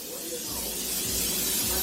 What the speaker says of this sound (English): I'm just going to spray it with some canola oil